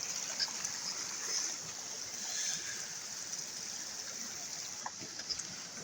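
Gentle, steady splashing of a small waterfall feeding a stream on the Estes Cone trail, close and continuous, with a thin high hiss in the background.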